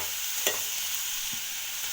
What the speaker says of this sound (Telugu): మొత్తం టమాటో వేసుకున్నాక ఒకసారి మిక్స్ చేయాలండి.